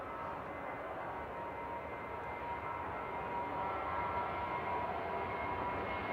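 A Lufthansa jet departing Manchester Airport for Frankfurt, a steady, distant broadband engine roar that holds at an even level throughout, with no voices.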